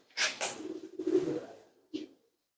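Pigeon cooing close by, a few soft low coos in two bursts over a couple of seconds, with no talk.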